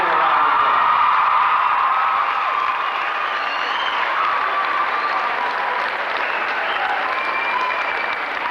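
High school gathering giving a loud, sustained round of applause for a returning football coach, with scattered cheers and whoops from the crowd, slowly easing off.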